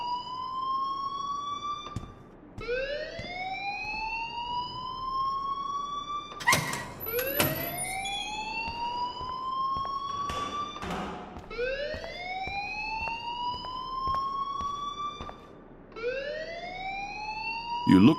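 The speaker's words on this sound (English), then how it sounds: "please turn off that alarm since that's your job" A school alarm from the Life Is Strange video game wails in repeated rising sweeps, each climbing and holding for a few seconds before cutting off and starting again, loud and steady with door-like knocks in between.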